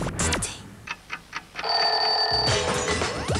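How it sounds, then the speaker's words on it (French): A mobile phone rings with a steady electronic ringtone: a few short chirps first, then a sustained, loud tonal ring pattern that continues to the end, with no talk over it. "J'ai mon portable qui sonne."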